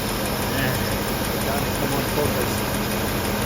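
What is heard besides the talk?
engine idling with rich mixture, occasional misfires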